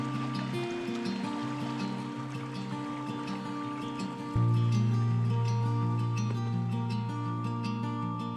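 A small creek flows at a walking-track crossing along the Stoney Creek and Bellbird tracks: a steady, close wash of running water with no talking, growing slightly louder and fuller partway through.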